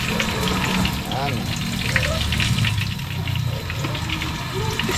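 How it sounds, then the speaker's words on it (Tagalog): Tilapia frying in a large batch of hot oil outdoors at night: a continuous loud sizzle and crackle, with occasional clinks and water sounds and a voice briefly heard. "Medyo marami itong ating piprito yung tilapia na to."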